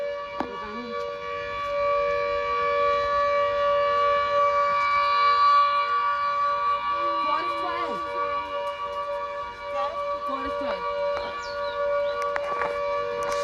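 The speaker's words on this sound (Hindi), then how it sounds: "फिर हम आगे बढ़े तो कुछ सायरन सुनाई दिया" A siren wails steadily from a distance for a long stretch in Shimla, its sustained tones holding under scattered voices and street noise.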